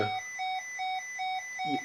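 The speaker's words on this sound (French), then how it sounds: "on a deux autres alarmes qui ont donc déclenché l'alarme sonore" An aircraft caution and warning system sounds its aural alarm, a repeating electronic beep that pulses on and off about every 0.4 seconds. The tone stays steady and clear with no talking.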